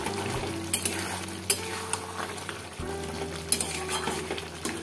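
Curry with green chillies sautéing in a pan gives a steady sizzle, with a spoon repeatedly scraping and clinking against the metal as it is stirred, close and continuous.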